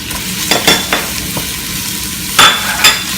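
Garlic and ginger fry in oil with onion and pepper for a sweet potato and chickpea curry, a close sizzling hiss broken by a few bursts of louder crackling and stirring scrapes.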